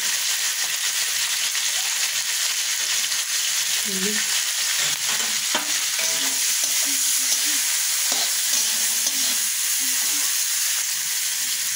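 Spices with turmeric and salt stirred and frying in a hot pan, a steady loud sizzle throughout with scraping stir strokes of a spatula recurring across the clip.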